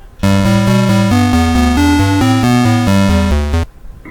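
A loud 8-bit chiptune melody built in Audacity, with a buzzy, growling square-wave tone stepping through evenly spaced notes for a few seconds before cutting off; no voices.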